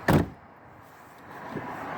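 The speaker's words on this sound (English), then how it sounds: "So now I'm going to shut the door" A single solid thump of a GMC or Chevy truck door shutting up close, followed by a low quiet hum and faint clicks.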